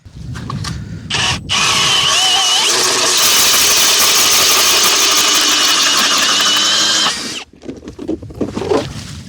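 A powered ice auger bores a hole through lake ice while ice fishing: the motor revs up sharply, holds a loud, steady buzzing drone for several seconds, then drops off into idle chugging and rustling.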